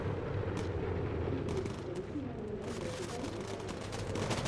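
Gunfire from a bomber turret in the video game Bomber Crew, sounding as dense, rumbling bursts of shots and booms over steady aircraft engine drone, fairly faint and continuous.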